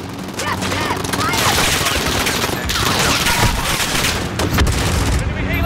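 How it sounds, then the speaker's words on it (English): Enemy gunfire in Call of Duty: Modern Warfare (2019) rattles in dense, continuous bursts of shots and booms, loud and close, with a frantic player voice breaking in over the barrage. "Stop firing at me! Stop shooting!"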